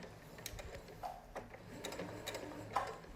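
A sewing machine back-stitches the seam of a fabric pocket face mask, a quiet, steady mechanical whir with irregular ticking and clicking throughout and no talking.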